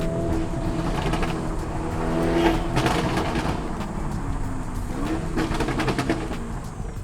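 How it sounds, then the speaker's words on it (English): A tuned 800 hp Lamborghini Urus SUV holds a steady, loud exhaust drone as the throttle is blipped, with scattered sharp crackles and pops from the exhaust over the continuous engine note. "Never-ending pops and bangs"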